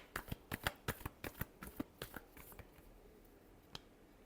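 Tarot cards being shuffled by hand in quick crisp riffling bursts, a rapid run of close, distinct flicks that slows and thins out toward the end, with no talking.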